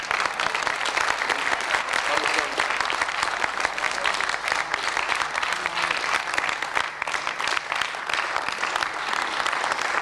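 Audience applause at a gathering: dense, continuous clapping from many hands, steady and even throughout, heard a little distant.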